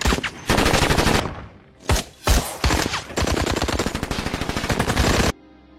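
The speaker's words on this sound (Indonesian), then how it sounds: "Baku tembak pun kembali terjadi." A war-film firefight between special forces troops and Taliban fighters: dense machine-gun bursts rattle loudly and rapidly, broken by a short pause and a few heavy single shots, then a long sustained volley that cuts off abruptly.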